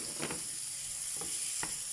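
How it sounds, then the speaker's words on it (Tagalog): Meat hits a pan of garlic and onions and sizzles as a steady, faint hiss, broken by a few soft stirring scrapes. Nobody talks. "So, yung karne muna. Ilalagay na natin ang karne."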